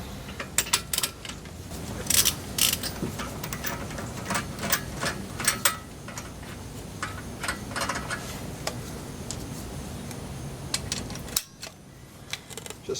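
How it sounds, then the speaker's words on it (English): Wrench work on the front wheel bolts of a BMW 3 Series (E36/E46), all five being loosened: rapid metallic ratchet clicks and clanks in irregular bursts, close and fairly loud, with a short pause near the end. "Just unbolt it. All the 5 bolts."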